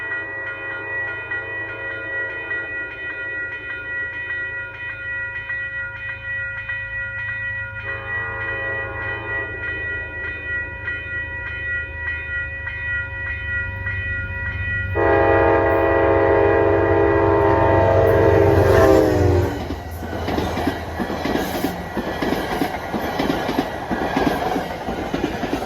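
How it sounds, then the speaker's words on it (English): A northbound equipment train rumbles past on the Hudson line with steady rail noise, sounding long horn blasts partway through, then clattering wheels as the cars go by, fairly close and loud. "this train going north is an equipment train from Grand Central to Beacon"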